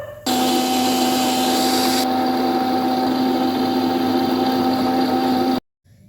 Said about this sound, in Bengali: চলুন এবার পিষে নিই